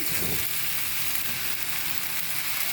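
Glass noodles stir-fried with shrimp, minced pork and mushrooms sizzle steadily in a hot pan, a continuous close hiss with no talking.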